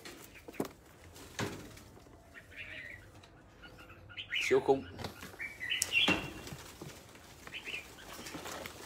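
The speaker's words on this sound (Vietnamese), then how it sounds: "À, con chim đi VIP anh này." Large showy pet birds, called very big and long-tailed, chirp and flutter at close range in short bursts, with wing flaps strongest midway, while someone talks over them.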